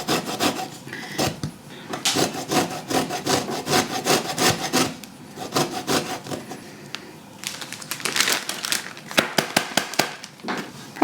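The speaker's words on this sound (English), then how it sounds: "I'm going to just grate this lemon and get some zest" Lemon being grated for zest while preparing sous vide turkey breast: a close, steady run of dry rasping strokes in irregular bursts, with brief pauses between passes and no talk.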